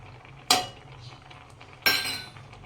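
A spoon clinks twice against a pot while cardamom powder is stirred into milk for carrot halwa, two sharp metallic strikes about a second apart with quiet scraping between them.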